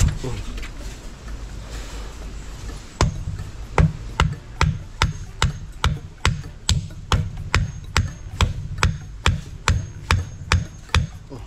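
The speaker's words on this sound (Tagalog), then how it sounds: "Ya, martilyo." A hammer strikes a hard surface in a steady run of about sixteen loud, evenly spaced blows, starting after a few seconds of low background noise and murmur.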